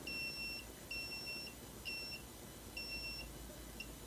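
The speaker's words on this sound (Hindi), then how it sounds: "आप देख सकते हैं दोनों साइड में मेरा बीप आ रहा है।" A multimeter set to continuity gives a series of short, high electronic beeps, about five in a row with brief gaps, as the probes touch points on a Redmi 6A phone circuit board.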